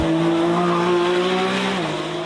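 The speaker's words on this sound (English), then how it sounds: "take you on board the Lamborghini Revuelto, the first V12 plug-in hybrid" Lamborghini Revuelto V12 plug-in hybrid on track at Vallelunga, a loud, sustained high engine tone holding steady and then dropping slightly in pitch, heard from on board.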